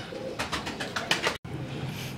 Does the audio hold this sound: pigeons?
yes